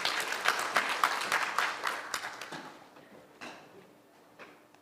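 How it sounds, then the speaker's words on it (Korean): Audience applause welcoming a lecturer at a valve academy event, a dense round of clapping that fades away after about three seconds, leaving a few scattered claps. "힘찬 박수로 환영해 주십시오."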